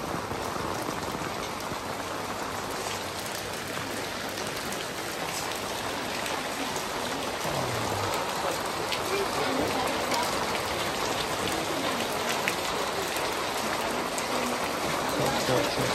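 Steady rain falls across a Xi'an urban village, a dense broadband hiss of drops on surfaces lasting throughout at an even level, with a voice faintly present beneath it.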